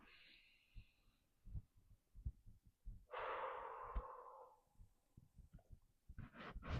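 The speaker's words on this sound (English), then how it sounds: "one more big inhale." A deep, drawn-out breath, a long inhale flowing into an exhale during a breathing exercise, sounds close and soft over faint low thumps and small body noises, with no talk.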